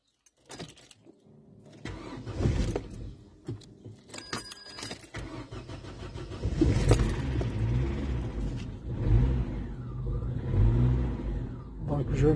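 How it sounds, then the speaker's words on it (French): An Opel Vectra B engine cranks over and catches, then settles into a steady running idle up close, with a few brief clicks and jingles early on and rising engine noise through the later part. "Donc là je démarre le moteur"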